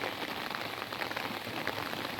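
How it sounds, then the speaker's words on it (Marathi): Steady, dense rain pattering on a surface, a continuous close hiss of countless drops with no voices. "पाऊससुद्धा आता सुरू झाला आहे"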